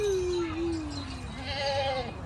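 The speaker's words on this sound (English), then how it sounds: "Do you want to go see the goats?" Goats on a farm give a long, wavering bleat followed by a second, higher bleat, fairly close, over faint outdoor background noise.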